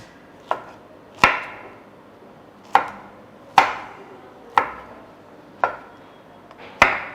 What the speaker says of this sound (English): I'm trying to achieve 1 cup of the sweet potato. Okay, I need to cut some more.